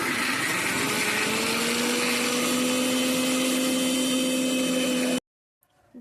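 An electric blender grinds fried dried red chilies, black cumin, garlic and green chilies into a paste, a loud close whine with a rising motor pitch that runs steadily and then cuts off abruptly near the end.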